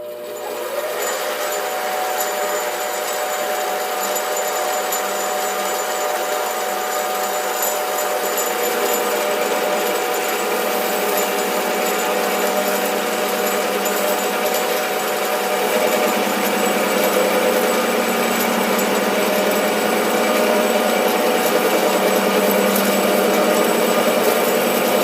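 A SIEG 7x14 mini lathe takes a heavy cut in metal, a steady whining motor hum with broad cutting noise throughout, close and continuous without talk.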